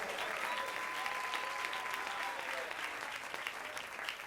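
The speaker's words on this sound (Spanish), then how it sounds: "Si lo cree, denle el mejor aplauso al Señor" A church congregation claps together during a Spanish-language Sunday sermon, dense sustained applause that fills the room evenly and tapers slightly toward the end, heard from within the crowd, no speech over it.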